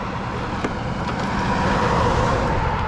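A race car engine drones loud and steady, the pitch held high as it makes a pass, building slightly toward the end with no talk over it.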